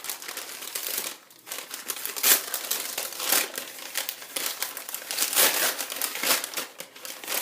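A small bag of yarn is being opened with steady crinkling and rustling of plastic, close and continuous, with a short pause near the start.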